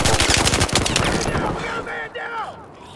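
Rapid M249 machine gun bursts in Battlefield 4 on the Altai Range map, loud and close for the first second, then fading into lighter game noise and distant whooshing effects.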